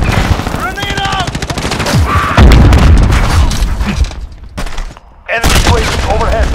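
A loud, close grenade blast in Call of Duty: Modern Warfare, a deep boom amid rapid gunfire and chaotic multiplayer combat noise, with game voice lines heard around it.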